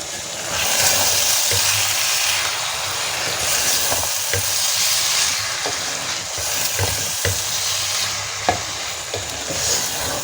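Aloo keema, potato mince cooked with green chillies, being stirred in a pan, giving a steady close sizzle of frying with scraping spoon strokes and a few sharper knocks against the metal, no talking.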